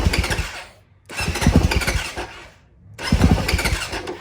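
Motorcycle engine in cold weather cranking and sputtering in three repeated attempts, each a loud chugging burst that dies away between tries, close by with no talk.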